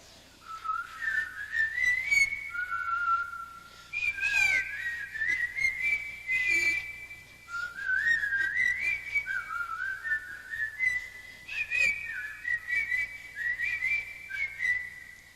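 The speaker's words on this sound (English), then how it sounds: "They whistle." Whistled melody from a stage performance of the musical Camelot, a bright tune in repeated phrases carried by several whistlers at moderate distance, with brief pauses between phrases and no talk over it.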